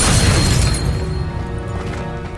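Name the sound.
Depulso force spell impact in video game Hogwarts Legacy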